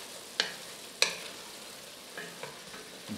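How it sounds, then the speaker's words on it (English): Red wine beef stew ingredients are stirred in a pot, faint background sizzle broken by a few sharp spoon knocks and soft scraping sounds. "Give that a stir."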